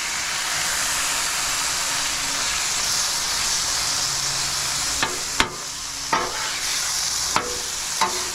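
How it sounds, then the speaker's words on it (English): Wild hog meat sears with roasted garlic on a Blackstone griddle at a campsite, a steady close sizzle running throughout, with a few sharp scrapes or taps near the end. "And I just want to drop in the wild hog with it."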